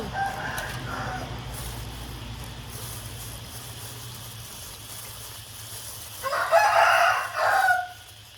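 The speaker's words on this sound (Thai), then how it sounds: "บอกแล้วบ้านนี้มีไก่เยอะ" A rooster crows loudly and close by, one long call late on. Many chickens cluck and murmur steadily behind it around a house that keeps a lot of poultry.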